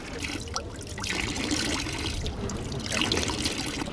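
Water trickles steadily from a public drinking fountain in Switzerland, a continuous close splashing stream with no pauses.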